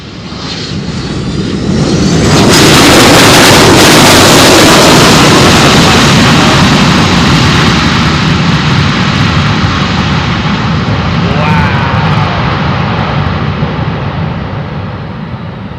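A UPS freighter jet lands in a crosswind at Louisville, its bucket-type thrust reversers deploying with a loud, sustained broadband roar that swells after touchdown and slowly eases while the reversers close.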